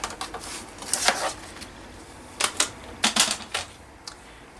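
Paper for a journal spine is cut by hand in irregular crisp snips and clicks, close and fairly quiet, in short bursts with pauses.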